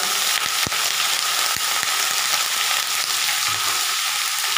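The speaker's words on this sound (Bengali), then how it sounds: "এই যে আমার পেঁয়াজটা ভাজা হয়ে গেল" Vegetables with onion frying in a pan give a constant bright hiss of sizzling, with a few sharp spatula knocks and scrapes breaking through, close and steady, no one speaking.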